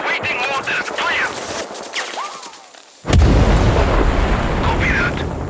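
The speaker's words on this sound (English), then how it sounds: "Suppressing with mortar fire." Mortar and gunfire in Sniper Ghost Warrior Contracts 2, a rattle of distant shots under battlefield chatter, then a sudden heavy booming blast that rumbles on loudly.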